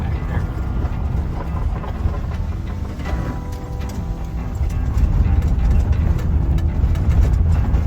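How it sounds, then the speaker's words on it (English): A vehicle with newly fitted suspension rolls along a bumpy off-road track in Big Bend, a loud steady low engine rumble with rattling and road noise inside the cabin, growing heavier in the second half. "starting our off-road adventure with the new suspension"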